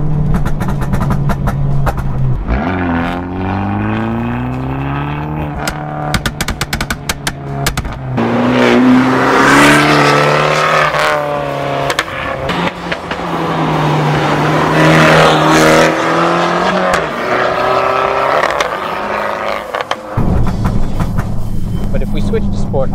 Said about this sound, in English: when we switch to sport, there's no more bang and all the fun, but the car just goes faster